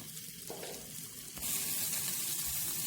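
Masala and onions roasting in a pan give a steady, close sizzling hiss that swells louder midway and keeps frying evenly with no talking.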